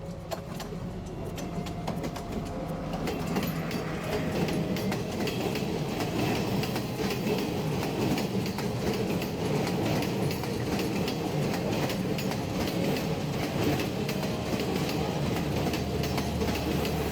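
Train passing close by, a loud, sustained rumble with rhythmic clickety-clack of wheels over the rail joints that builds in the first seconds and holds steady to the end.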